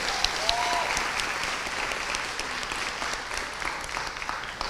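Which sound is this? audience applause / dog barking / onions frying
audience applause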